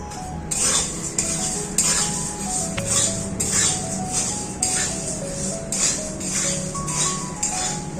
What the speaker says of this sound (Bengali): আর এই চিড়েটা ভেজে নেব